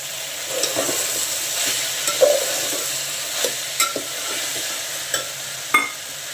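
Vegetables and peas are sautéed in a pan for pulao. A moderate, even sizzle runs underneath while a spatula scrapes and clacks against the pan every second or so, and nobody speaks.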